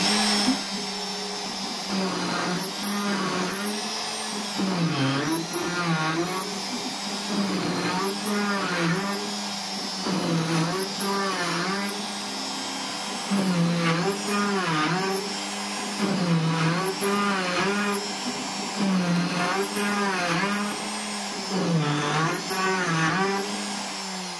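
CNC machine milling holes in fixture plates: a steady, fairly loud whine from the spindle and cutter, rising and falling in a regular pattern as the tool moves through each pass, continuous throughout.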